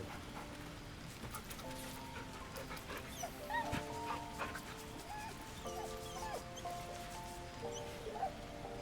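A dog in a video game whimpers and gives soft whines as it is petted, several short high yelps scattered over a murky ambient background, with no one speaking.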